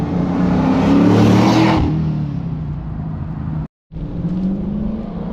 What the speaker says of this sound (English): Listen to how quiet this thing is